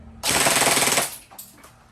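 A Lancer Tactical LT-04B G4 airsoft gun fires BBs in one fast full-auto burst of under a second, a loud close buzzing rattle that cuts off sharply, followed by a couple of faint clicks.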